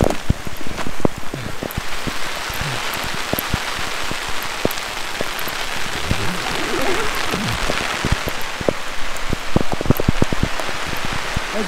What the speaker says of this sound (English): We're just in camp and it's hailing.